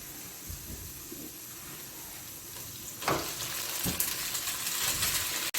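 Ginger and garlic frying in a pan, with a steady close sizzle and hiss, a few clinks of a utensil, and a louder burst of sizzling midway.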